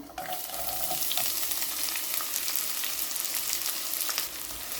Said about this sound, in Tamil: எண்ணெய் சூடாகிட்டு நான் இப்போ தாளிப்பு எல்லாத்தையும் சேர்க்குறேன். இப்போ நான் வெங்காயம் சேர்க்குறேன்.